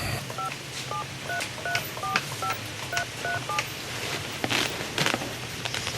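A phone number is keyed in as a quick run of about a dozen short dual-tone beeps in an uneven rhythm, clear and close above a faint background hiss and light shuffling.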